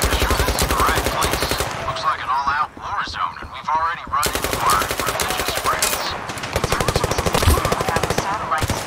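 Rapid bursts of automatic gunfire from the video game Zero Caliber rattle loudly and close in several long volleys, broken by a brief pause, with a person talking over parts of it.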